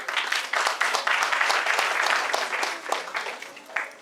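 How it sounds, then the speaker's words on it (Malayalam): An audience claps to encourage a performer playing Maveli at an Onam stage show: dense, steady applause from many hands that holds strong and then gradually thins out. "എല്ലാവരും കൈയടിച്ച് മാവേലിക്ക് ഒരു പ്രോത്സാഹനം കൊടുക്കും."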